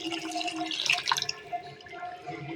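Mixer-rinse water poured into a pot of mutton gravy, a close, steady splashing and dripping stream with small bright drops, running alone for a couple of seconds.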